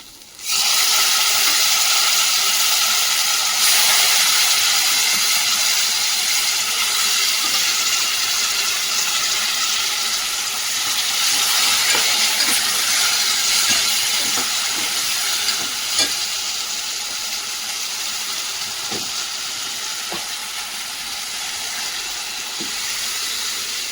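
Mutton pieces hit fried masala in a hot pan and set off a loud, continuous sizzle that holds steady throughout, with faint stirring scrapes underneath.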